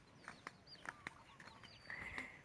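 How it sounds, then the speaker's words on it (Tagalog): Chickens cluck and squawk in a rural yard, several short calls near and far with a higher drawn-out cry toward the end, over a quiet outdoor background. "Maraming manok ko"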